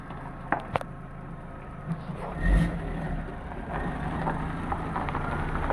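An Opel Astra H 1.4 with a blown cylinder head gasket drives along, its engine a steady mid-range hum and road rumble throughout, with a brief swell midway and no talk over it.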